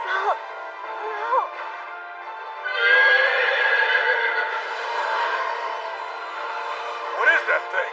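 A horse whinnies in an English-dubbed anime scene, its call answered by a creature's long, wavering howl. The sounds overlap in a sustained duet over several seconds, with a final sharp whinny near the end.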